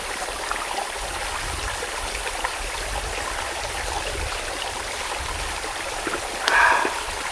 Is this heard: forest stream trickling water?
yes